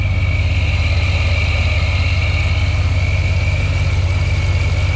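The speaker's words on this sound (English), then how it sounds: "See if I can get you to hear the exhaust" A 2012 Ram 1500 Hemi V8 truck engine idles steadily and loudly throughout, smoking and with a miss, with a deep rumbling low end and a constant even drone, no voices.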